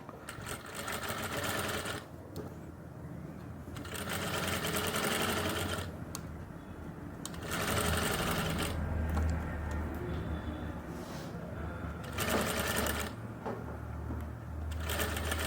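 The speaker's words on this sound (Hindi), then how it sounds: "धीरे धीरे इस सिलाई को आगे लेके जाएंगे" A sewing machine stitches a zipper on women's pants in rapid mechanical chattering runs, several start-stop bursts close up at moderate volume, with quieter pauses between them.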